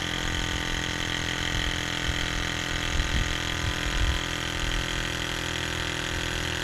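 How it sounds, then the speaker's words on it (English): Ford F250 with a 7.3 Powerstroke diesel cranking over during injector repair work, a steady, loud mechanical drone with a faint rhythmic pulse running unbroken and close throughout, no voices. "we're going to turn the engine over just a few times"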